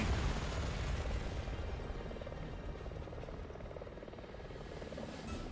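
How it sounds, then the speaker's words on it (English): A loud, steady video game helicopter rotor roar with a rumbling chop continues throughout, dense and close, from Resident Evil 6. "Oh, that looks like another helicopter."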